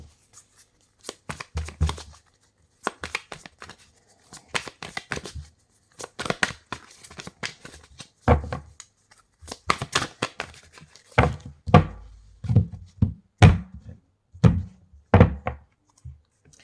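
A deck of tarot cards is shuffled by hand in close, dry bursts of riffling and tapping, with irregular clusters of soft slaps and thumps in a quiet room.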